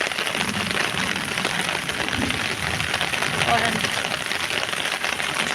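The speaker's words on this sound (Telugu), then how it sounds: "వాటర్ ఎలా ఫ్లో అవుతుందో" Rainwater rushes along a street drain during a downpour on the main road into Srungavarapukota near the Sai Baba temple, a steady, dense wash of water and rain noise throughout, with a brief spoken word over it.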